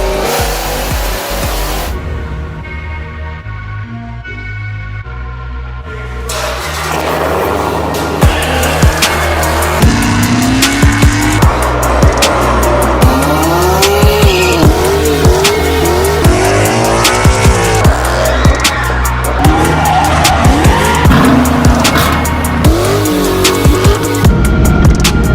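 A Dodge Hellcat engine runs hard on a dyno on Q16 race gas, loud and close. It idles briefly, then surges through repeated rising and falling revs with sharp pops and crackles.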